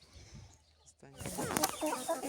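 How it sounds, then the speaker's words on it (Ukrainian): An older group of young chickens clucks in a backyard yard on a hot day, soft calls at first, then a louder, busier burst of clucking and fowl chatter. "Це курчата старша група у нас."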